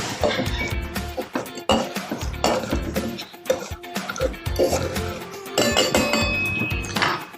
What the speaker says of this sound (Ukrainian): Та добре це мадлимо